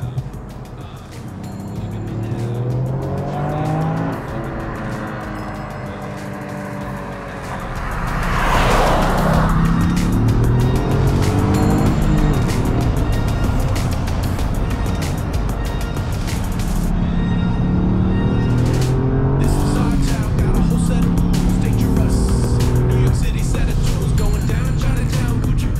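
A Toyota Yaris GR with a three-cylinder engine is driven hard on winding roads, its engine revving up and down through gear changes with tire squeal and skidding, loud and continuous.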